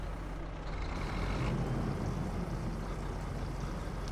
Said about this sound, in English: The sounds have been updated on this tractor and it does sound pretty good. It does go through every single gear though